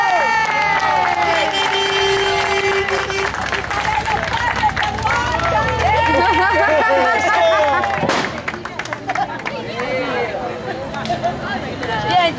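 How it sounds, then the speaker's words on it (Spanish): A crowd cheers and claps for children at an outdoor New Year's effigy (muñeco) event, a loud dense roar of voices and scattered applause with calls rising over it throughout. "Un aplauso para los chicos"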